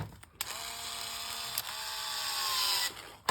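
Screws are driven into the male and female ends of a resized belt buckle, giving a steady whirring mechanical buzz with sharp clicks between runs, close and alone.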